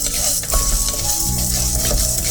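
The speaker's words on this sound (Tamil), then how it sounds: "எண்ணெய் இதை இப்போ வறுக்க போகிறேன்" Ingredients for a ridge gourd peel chutney fry in oil, a loud close sizzle with stirring scrapes and a low steady hum underneath, no voices.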